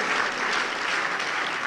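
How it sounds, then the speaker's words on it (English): Steady, dense applause from a conference audience thanking event sponsors, continuous and fairly loud throughout the short stretch. "Just applaud them for us so that they'll come back next year."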